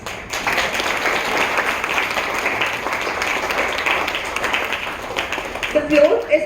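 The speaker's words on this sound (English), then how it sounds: "Let's receive a loud round of applause." A lecture audience gives a sustained round of applause at an association inauguration event, steady and fairly loud throughout, with a brief tonal sound near the end.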